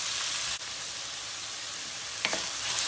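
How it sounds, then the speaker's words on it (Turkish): Onions and garlic fry in a pan with a steady, close, broadband sizzle throughout, broken by a brief stir and a light clatter near the end. "Sarımsakla beraber soğanımızı iyice bir kavuracağız."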